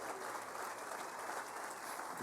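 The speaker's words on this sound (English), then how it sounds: "just say that and you'll get applause" Audience applause at a groundbreaking ceremony for the Kalamazoo Event Center, a steady, dense wash of clapping from a crowd that continues evenly throughout without any speech.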